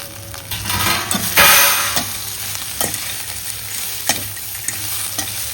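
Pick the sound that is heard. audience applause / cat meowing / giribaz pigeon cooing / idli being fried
idli being fried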